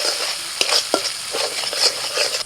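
Spice paste with kasuri methi frying in a hot pan, a steady sizzle broken by a few sharp scrapes and clinks of a spoon stirring, close and clear with no talking.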